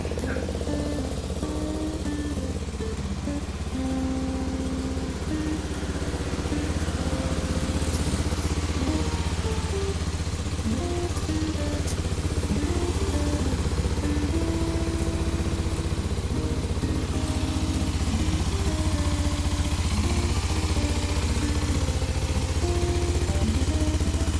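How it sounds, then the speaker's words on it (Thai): A 2015 Kawasaki Ninja 250 SL ABS motorcycle idles close by with a steady, even engine hum and light mechanical ticking, holding a constant level throughout with no talking. "เครื่องยนต์เงียบๆ นะครับ พร้อมใช้งาน"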